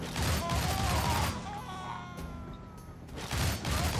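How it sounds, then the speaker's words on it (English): Rapid pistol fire in the video game Shank comes in dense, loud bursts at the start and again at the end, with quieter tonal game sounds in between. "Sniping with his pistols"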